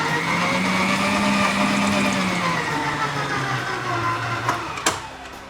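An electric stand mixer steadily whirs as it kneads rich brioche dough with butter and egg, a continuous motor drone that slowly dips in pitch, ending with a couple of sharp knocks.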